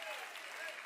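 A church congregation clapping for the King of Kings during a sermon, a brief, steady wash of many hands applauding at moderate distance with a voice faintly mixed in.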